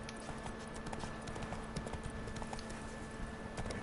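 A horse gallops in The Witcher 3 video game with rapid, rhythmic hoofbeats on the ground, steady and fairly close, heard alone without voices.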